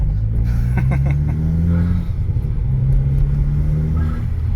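A Volkswagen Golf V GTI engine rumbles and revs up, its pitch rising and falling, close by with a voice briefly heard under it.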